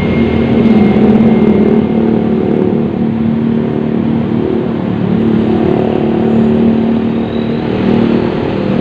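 A large Sinar Jaya bus engine rumbles steadily nearby with a low droning hum as it enters the Purwokerto bus terminal, continuous throughout, amid busy ambient noise and no talking.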